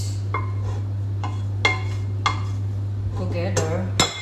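Metal utensils scrape and clink against a pot while beans are stirred into plain rice, a few sharp knocks standing out over a steady low hum, with a voice speaking briefly.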